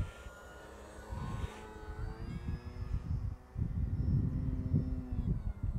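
FMS Pitts V2 1400mm RC biplane flying overhead, its electric motor whine rising and falling steadily over several seconds, moderately close with a continuous outdoor wind rumble underneath.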